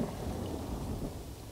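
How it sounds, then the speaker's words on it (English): In the video game Elder Scrolls Online, a low rumble of thunder rolls under steady rain in the Auridon region, heard fairly faintly as one continuous storm bed. "It's raining."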